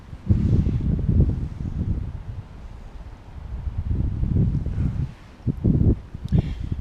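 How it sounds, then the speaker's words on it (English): Gusty wind by rough open water buffets the microphone in low, rumbling surges that rise and fall over several seconds, with no voices. "Let's see how windy it's getting here."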